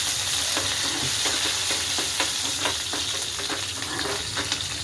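Onion and coriander fry in a pan with a dense, steady sizzle and a quick run of rhythmic stirring scrapes, close and fairly loud, with no one speaking.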